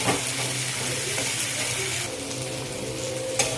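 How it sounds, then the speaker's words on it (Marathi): Chicken masala with onion and roasted coconut sautés in oil in a pan, giving a loud, continuous sizzle with stirring scrapes throughout and a brief clink near the end. "हे अशा प्रकारे आपलं हे छान आता तेलावर मिक्स करून झालेलं आहे परतून घेतलंय"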